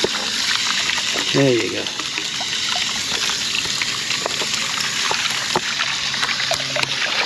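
Water rushes and trickles through a rain gutter sluice washing placer gold material, a steady broadband wash running throughout, with someone speaking briefly over it.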